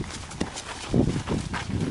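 Hooves of a horse clip-clopping at a walk during a riding trek, several uneven, fairly close thuds over a short stretch without speech.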